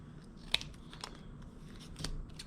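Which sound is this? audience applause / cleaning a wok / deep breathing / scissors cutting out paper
scissors cutting out paper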